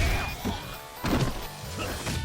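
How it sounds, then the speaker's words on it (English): A sword shatters in the video game Yakuza Kiwami 2: a few sharp smashing, crashing impacts over a dense, busy game soundtrack. "I saw this sword shatter"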